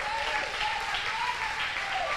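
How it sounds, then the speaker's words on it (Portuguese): A church congregation claps together during a worship service, a dense, even patter of many hands sustained throughout at a moderate distance. "Vamos aplaudir o nome do Senhor."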